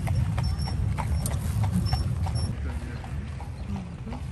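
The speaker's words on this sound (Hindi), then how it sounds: "इंटरलेकन सिटी सेंटर के बीच में हॉर्स राइडिंग होती है।" Horse hooves clip-clop steadily on a street during a horse ride through the city centre of Interlaken, Switzerland, with a continuous close-up rhythm of hoof strikes over a low rumbling background.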